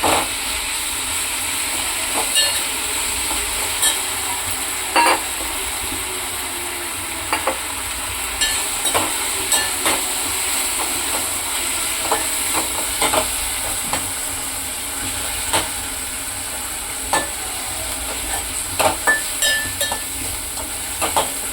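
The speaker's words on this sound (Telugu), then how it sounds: "గోంగూర అయితే కొంచెం మగ్గేంత వరకు ఫ్రై చేసుకున్నామండి" Gongura leaves fry in a pan with a steady sizzle and hiss, punctuated by occasional light clicks and scrapes of stirring throughout.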